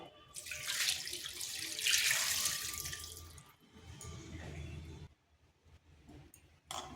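Water poured from a container into a cooking pan of potatoes, eggs and spices, a close splashing gush that starts loud, then slackens and trickles out into near quiet, with no talking.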